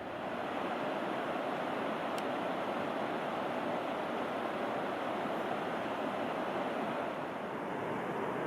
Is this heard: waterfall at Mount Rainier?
yes